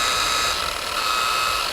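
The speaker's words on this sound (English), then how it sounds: "This is a Makita polisher here." A Makita rotary polisher spins steadily in a continuous mechanical whine with bright high overtones, holding an even, close-up level throughout with no talk.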